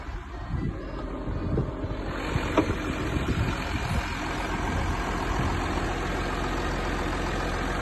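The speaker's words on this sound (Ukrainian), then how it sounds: "Як працює моторчик." A cold 2013 Audi Q7 3.0 TDI diesel engine idles steadily nearby, a low even rumble with some wind buffeting the microphone.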